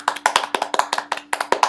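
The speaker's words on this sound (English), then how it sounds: "You're just supposed to edit in clapping." A quick run of sharp hand claps, roughly a dozen in under two seconds, fairly close and steady with no voices over them.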